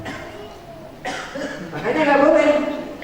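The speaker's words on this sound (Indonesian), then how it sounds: "Iya Ustaz, batuk ya Ustaznya, haus ya." A man, an Ustaz at a dhuha religious gathering in Jember, lets out a short cough partway through, followed by some throaty, chuckling vocal sounds, all close to the microphone with mild room tone.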